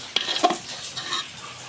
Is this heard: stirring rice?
yes